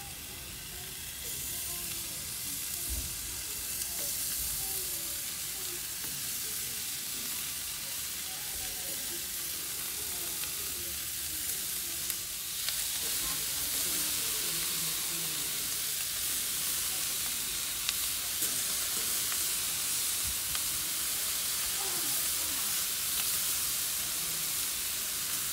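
An egg frying on a hot stone heated over a campfire gives a continuous soft sizzle and hiss, close and steady, with light crackles from the fire underneath and no voices.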